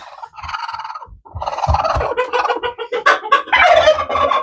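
An angry broody Silkie hen growls and vocalizes in a rapid run of harsh, gobbling clucks, close and loud, with no talk over it.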